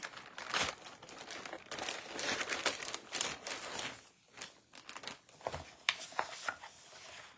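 Paper scraps rustle and crinkle as a hand sorts through them in a bag, a close, busy run of crackling bursts with short pauses.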